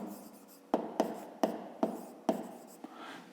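A pen writes on paper in a series of distinct scratchy strokes, each starting with a sharp onset, close and quiet in a still room with no voices.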